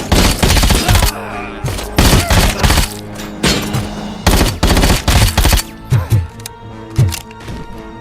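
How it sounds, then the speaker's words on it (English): Heavy machine gun fire from a 240 or M60 in the game Robocop Rogue City: loud close bursts of rapid shots in repeated volleys with short pauses, ringing and thumping impacts between. "it sounded like a 240 or almost maybe an M60"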